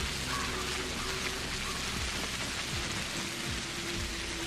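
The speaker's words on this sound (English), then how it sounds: "The rain is so loud." Heavy rain pours steadily in the video game Pathologic, a loud, dense hiss that fills the whole stretch without a break, with low rumbling underneath.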